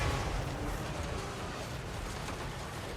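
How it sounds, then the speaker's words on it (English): Explosions rumble through a Total War: Warhammer 3 battle, a dense low booming wash of blasts and distant gunfire, continuous and moderately loud with no distinct single bangs standing out. "There's a lot of explosions going on."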